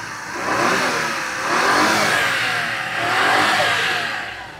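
A mini van's K6A 660cc three-cylinder engine, 64 horsepower with a 5-speed manual, revs up three times in steady swells, each rising and easing back, close and loud with no talking.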